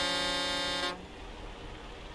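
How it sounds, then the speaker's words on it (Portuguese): A loud, sustained truck horn in the game Euro Truck Simulator 2 blares for about a second, then cuts off abruptly, leaving a low engine hum. "Tem buzina."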